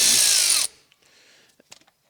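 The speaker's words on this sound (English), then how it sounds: "I'm getting the bulk of the bolts out" A power tool loudly whirs for about two-thirds of a second while zipping transmission pan bolts out of a 1999 Ford Mustang, then stops abruptly, leaving faint clicks and small metallic ticks.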